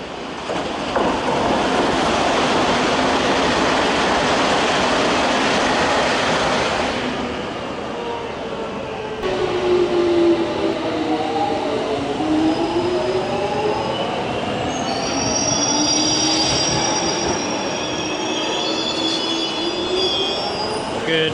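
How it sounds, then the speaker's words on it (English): A London Underground night tube train rumbles steadily along the track, with wheels squealing and whining on curves, loud and close throughout. "we are technically testing out the night tube"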